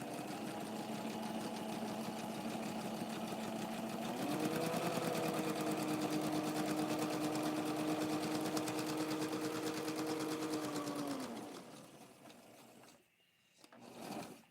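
A sewing machine stitches a zigzag seam on a doll dress, running in a steady rapid close-up whir that shifts pitch briefly mid-run, then stops, followed by faint handling noises.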